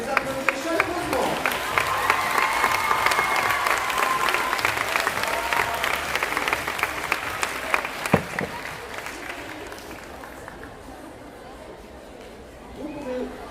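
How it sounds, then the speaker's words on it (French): A crowd applauds warmly, dense clapping that holds steady for several seconds before thinning out and fading, with murmured voices underneath. "On peut les applaudir chaleureusement."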